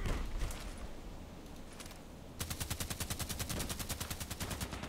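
EBR marksman rifle firing in a first-person shooter game: after a quiet stretch, a rapid, evenly spaced string of sharp shots, roughly four to five per second, rattles on steadily for a couple of seconds.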